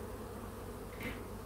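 Honey bees buzz steadily around a beehive, a dense, close, continuous drone with no talk over it.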